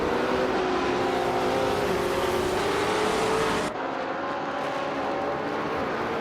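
A vintage 1968 Porsche 908 LH coupe race car at full speed, its engine holding a loud, steady high-pitched drone with a rising pitch, then an abrupt drop in level as the sound shifts mid-run.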